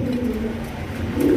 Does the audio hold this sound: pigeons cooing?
yes